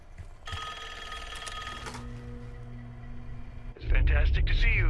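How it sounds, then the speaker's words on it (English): A telephone rings in the video game Pantheon, its steady electronic tone running under game sounds and a voice for several seconds before a louder burst of sound swells in near the end. "And there's a phone ringing."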